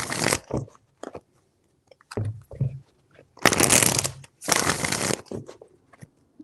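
Tarot cards are shuffled in several crisp bursts of riffling and snapping, separated by short pauses, close up with no talking.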